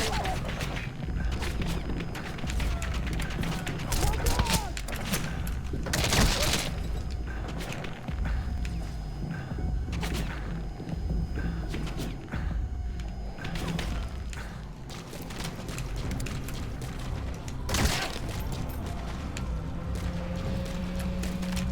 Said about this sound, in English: That guy's got some range with that shotgun.